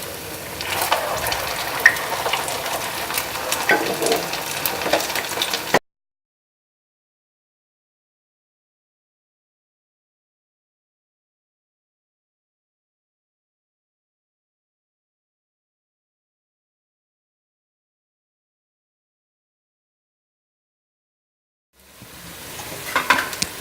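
Sabudana vada fry in ghee on a pan over medium-high gas, giving a steady close sizzle for several seconds that cuts to a long silence before the sizzling returns at the end.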